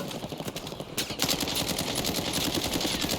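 Automatic gunfire in Call of Duty Warzone: dense, continuous rapid bursts of machine-gun fire, loud and close, running throughout with sharp repeated cracks and no speech.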